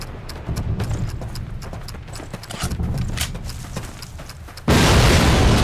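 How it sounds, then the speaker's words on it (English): Rumbling, thudding battle noise builds in the video game Call of Duty, then a loud cannon blast erupts near the end and holds as a roaring wall of sound. "This cannon's about to go boom."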